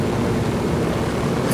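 A helicopter flown in the video game Ghost Recon Wildlands, a loud dense rotor and engine roar with low thumping texture, steady throughout and no speech.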